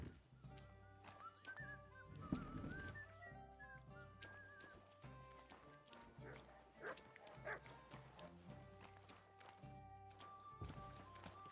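A dog barks and yips in Kingdom Come Deliverance II, set against busy game ambience with hoofbeats, background music and talking voices, the barks scattered across the scene at moderate volume.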